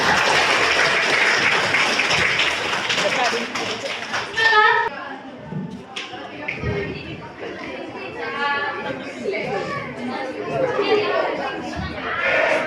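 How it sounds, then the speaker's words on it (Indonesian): Audience applauding Vera at an Indonesian talk event: a burst of clapping and chatter for the first few seconds that fades, followed by speaking voices over light crowd murmur. "kita berikan sekali lagi tepuk tangan kepada Vera"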